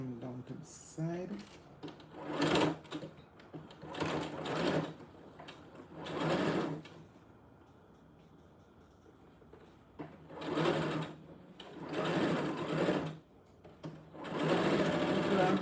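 A sewing machine stitches doll clothes in whirring, rapid bursts of several seconds each, separated by quieter pauses. It is near and fairly soft, with a voice heard briefly at times.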